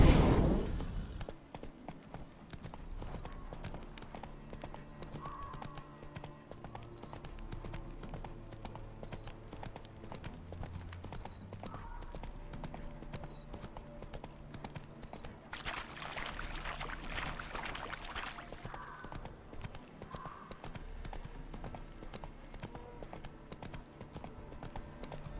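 Roach the horse's hooves clip-clop at a steady walking rhythm through The Witcher 3: Hearts of Stone, a continuous faint patter with a soft rush of ambient noise partway through.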